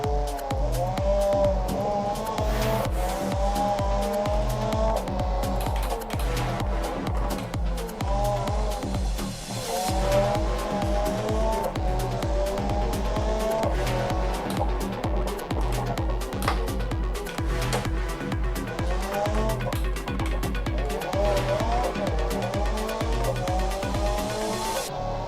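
Racing video game car taken into a turn far too fast, its engine droning loudly and continuously while tyres squeal and skid in repeated wavering bursts through the corner, with no talk over it.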